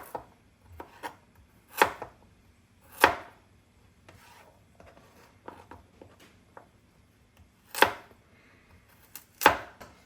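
A sharp knife chops vegetables for chicken noodle soup on a cutting board, giving sparse, uneven thuds of varying strength with pauses in between, close and clear.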